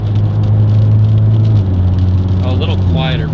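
A Hyundai Veloster N with an SXTH Element downpipe idles nearby with a loud, steady, throaty drone, then settles into a slightly lower hum while a person talks over it.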